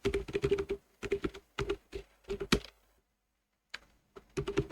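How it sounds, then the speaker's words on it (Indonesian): Someone types a short command on a computer keyboard: quick bursts of crisp key clicks, a pause of about a second, then a few more taps, close and quiet, with no voices. "Kita bisa cek di sini dengan mengetik cd"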